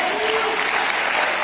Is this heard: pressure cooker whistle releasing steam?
no